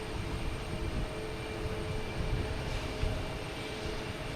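Jet airliner taxiing at Boston Logan Airport, a steady broadband engine roar with a faint whine on top, held at a constant moderate level from a distance with no voices.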